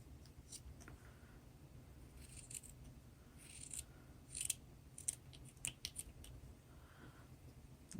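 Quiet, careful snips of scissors cutting puppet material, a handful of short crisp clicks spaced irregularly over a low steady background hum, with no talking.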